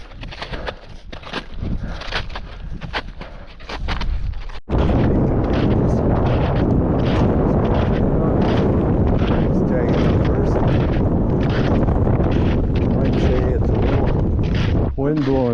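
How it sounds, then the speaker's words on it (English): Strong wind roars across the open summit of Torpy Mountain, a loud, steady blast buffeting the microphone almost throughout, with a short gustier, quieter stretch at the start. "Wind blowing up here."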